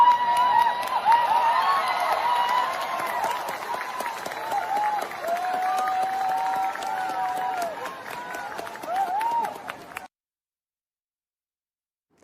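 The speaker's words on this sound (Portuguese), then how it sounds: "foi ali aplaudido por alguns alunos, alguns formandos" Graduating students applaud Minister Alexandre de Moraes at a ceremony, a dense, steady wash of clapping and crowd noise with scattered cheers that runs for about ten seconds, then cuts to silence.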